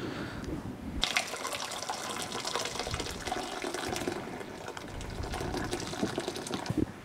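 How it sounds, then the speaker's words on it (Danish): Water from a pot of boiled potatoes, poured off through a pouring spout, makes a steady close splashing rush that runs alone for about seven seconds with small surges along the way. "Vi skal lige hælde vandet fra."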